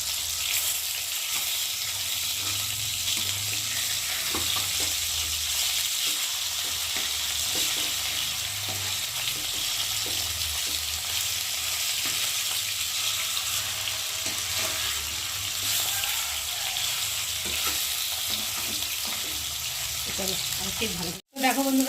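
Pieces of rohu fish fry in a pan, giving a steady, close, continuous sizzle with occasional stirring and low background rumble, and a sudden clatter at the very end.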